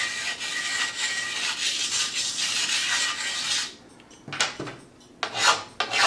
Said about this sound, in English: I'm just going to take a ceramic stone and soften this edge a little bit